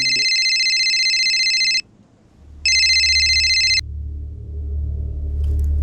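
A phone rings with two loud electronic trilling bursts separated by a short pause, followed by a low background rumble.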